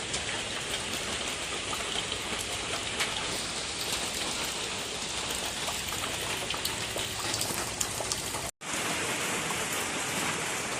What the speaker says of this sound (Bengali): কি সুন্দর ঝিম করে বৃষ্টি নামতেছে